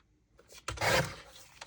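A paper trimmer blade slides through cardstock in a single quick rasping cut, close and fairly quiet, with a faint scrape at the end and no talking.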